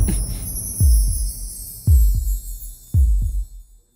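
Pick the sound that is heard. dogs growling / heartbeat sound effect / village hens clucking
heartbeat sound effect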